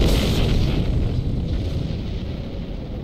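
Loud, sustained explosion roar from torpedo impacts in the space combat video game Star Trek Online, a broad rumbling blast that slowly decays over a few seconds with no talk.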